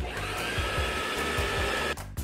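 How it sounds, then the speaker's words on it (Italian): A toy vacuum cleaner runs with a steady, whiny motor hum close up, cutting off near the end of the short clip. "Sì, è l'aspirapolvere!"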